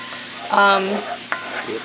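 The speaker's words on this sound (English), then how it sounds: "You want to sweat those onions a little." Chopped onions sweat in a pan over medium heat for creamed spinach, giving off a steady soft sizzle that swells briefly near the middle and carries on alone.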